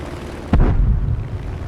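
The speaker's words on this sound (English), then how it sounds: "now our AA is shooting at him" A single heavy anti-aircraft gun blast in War Thunder, a sharp close boom with a rumbling low tail trailing off over steady background noise.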